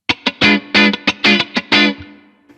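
Clean, funky electric guitar plays a part in the style of a song through a clean amp with a touch of reverb, loud and close in short rhythmic choppy chord stabs, alone with no voices.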